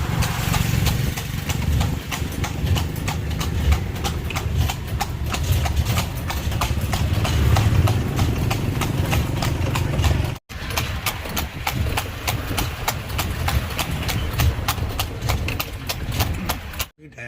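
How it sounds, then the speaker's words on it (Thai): Hooves of a horse pulling a carriage on a tour around a Thai town clip-clop in a steady, even trot close by, running continuously under road and engine rumble with no pauses. "ฟังเสียงม้าไปด้วยค่ะคค"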